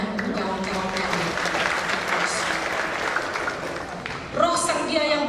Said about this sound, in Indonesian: Saya minta kita tepuk tangan untuk kawan-kawan kami.